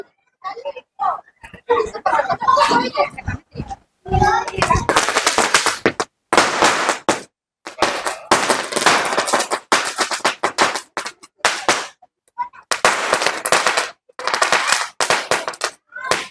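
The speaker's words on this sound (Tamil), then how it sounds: "மேஜிக் அதே வாலா மாதிரி தான் வெடிக்கும்." Rapid crackling bursts of a green Sivakasi Diwali firecracker string popping in long rattling volleys, loud and close, with short pauses between runs and a voice at the start.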